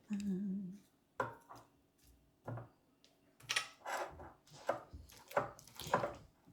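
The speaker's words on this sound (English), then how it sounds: "now I'm going to mash up a overripe banana and then I'm going to throw it in this mix" An overripe banana is mashed in a bowl for banana pudding, giving soft irregular squelching thuds and scraping strokes, close and fairly quiet, with no talk.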